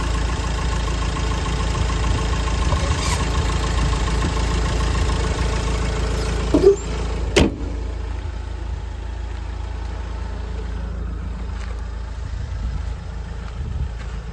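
A 2016/17 Mahindra XUV500 W10 engine idles in a steady low hum, with a couple of brief knocks or clicks partway through, after which the running sound carries on a little more quietly.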